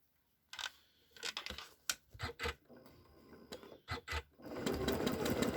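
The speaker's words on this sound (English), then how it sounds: "going to stitch a couple of lines along this frame" A sewing machine stitches lines along a card frame, running in short whirring bursts with pauses, then settling into a steady continuous run, close and clear.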